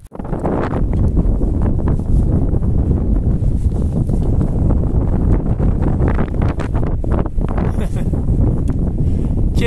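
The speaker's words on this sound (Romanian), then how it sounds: "Dar aici începe vântul iarăși." Strong mountain wind on the Bucegi plateau trail to Caraiman, Romania, buffets the microphone constantly, a loud, rough, unbroken roar with gusty fluctuations from start to finish.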